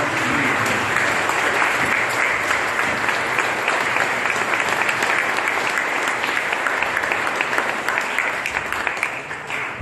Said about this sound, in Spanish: Les damos un aplauso a nuestros hermanos.